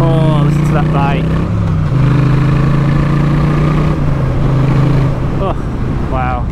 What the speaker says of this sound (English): Oh, listen to that bike.